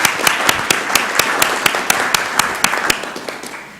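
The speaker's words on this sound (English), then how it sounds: "Let's give them another round of applause." A city council meeting audience gives a round of applause, with loud, sharp individual claps standing out over a steady wash of clapping that fades toward the end.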